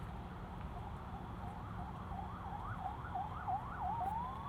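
A wailing siren rises and falls repeatedly in the distance near a street car takeover event, growing slightly louder over steady low traffic rumble.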